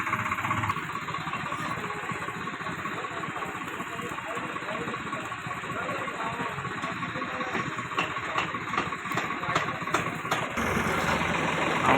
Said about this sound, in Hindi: देखो अभिषेक अब बैठने वाला है ट्रैक्टर के ऊपर फंस चुके यहाँ पर।